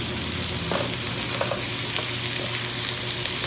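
Baguio beans and other vegetables being stir-fried, a steady close sizzle with occasional scraping stirs and light clinks from the pan, no talking.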